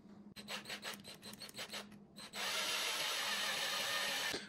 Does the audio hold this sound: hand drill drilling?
yes